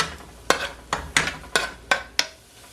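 Peppers go into a hot pot with steady sizzling, and a spoon scrapes and stirs in about six sharp, evenly spaced strokes, close and clear with no talking.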